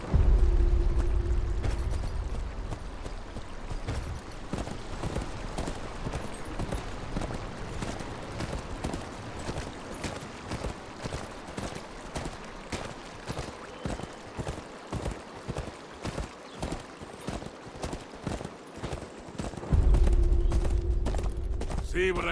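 Horse hooves clip-clopping in the Game of Thrones Kingsroad video game, a steady rapid rhythm of clops over game music, with a deeper rumble at the start and end.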